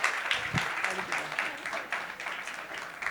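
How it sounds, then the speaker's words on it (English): A crowd applauds steadily for a few seconds, a dense, even patter of many hands with a few voices mixed in. "Big round of applause"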